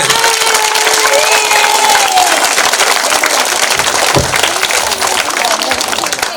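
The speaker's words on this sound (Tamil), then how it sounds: "முதல்ல ஒரு சிறப்பான கைதட்டல கொடுங்க" A temple crowd at a kummi folk dance performance in Coimbatore claps loudly and continuously for the troupe's teacher, dense applause with scattered cheers and shouts, and voices mixed in near the end.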